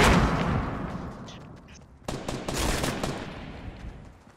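Rapid gunfire bursts in a Fortnite match, loud and close at the start and fading, then a second sharp burst of shots with rattling echoes, with no voices over it.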